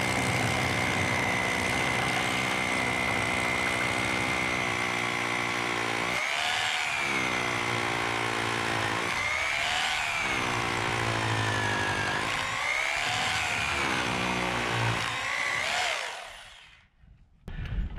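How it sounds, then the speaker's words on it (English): A drill grinds continuously into concrete, boring holes for Titan anchor bolts, for about fifteen seconds, with its pitch dipping in several regular pulses as it bites, then stops. "I'm gonna drill out these holes for these Titan anchor bolts"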